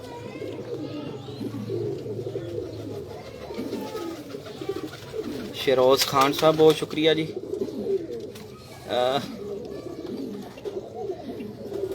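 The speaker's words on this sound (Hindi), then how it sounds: "ये भी गैस वाले कबूतर हैं" Gas pigeons, a Ferozpuri breed, coo and rumble close by in a loft, with a burst of louder calls in the middle. Someone talks over and between the birds.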